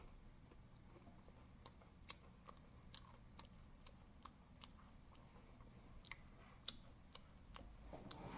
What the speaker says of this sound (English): Okay, I'm just eating a crunch bar.